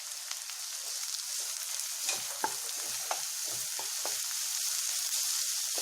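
Onion and curry leaves sizzle steadily in a pan, a continuous close crackle broken by occasional sharper pops and stirring scrapes, with no voices.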